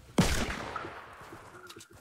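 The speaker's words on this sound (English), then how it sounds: "I heard gunfire." A single sharp gunshot from a video game cracks out loud and close, then dies into a quieter reverberating tail with faint background game sounds.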